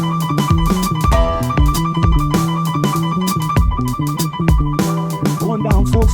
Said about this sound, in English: altogether, the drums now sound like this.